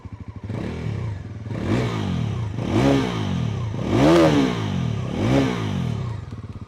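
Bajaj Pulsar NS400z with an underbelly exhaust revved repeatedly while standing, five rising and falling throttle blips with a gruff, growling tone and some mechanical clatter, loud and close, no talk.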